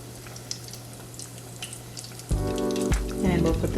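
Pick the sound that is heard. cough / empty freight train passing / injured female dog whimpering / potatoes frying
potatoes frying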